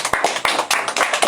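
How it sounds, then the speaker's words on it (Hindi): Children clap for a simple cosmology model, a quick burst of separate claps in an irregular rhythm, nearby and fairly loud, with no voices. "जोरदार तालियां।"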